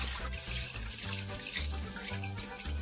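Two litres of water run steadily from a tap into a pot for a Bavarian Pichelsteiner stew, a continuous splashing pour with low humming underneath throughout.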